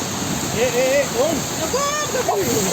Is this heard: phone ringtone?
no